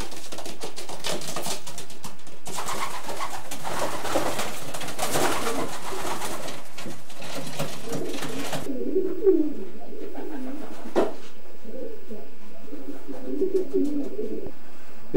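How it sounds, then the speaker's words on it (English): Racing pigeons coo steadily inside a widowhood section of a racing loft, a dense layered murmur of many birds nearby with wing flutters and scratching, loud and continuous. "This is a nice looking pigeon."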